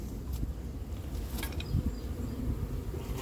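A honey bee swarm being hived at Montgeron, a dense, continuous buzzing hum of many bees close by, with a few faint thumps mixed in.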